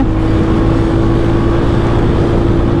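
A Royal Enfield motorcycle accelerating hard in third gear during a top-speed test, its engine droning loud and close as a steady, rising roar with a constant buzzing tone and no pauses.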